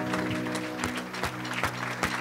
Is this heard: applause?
yes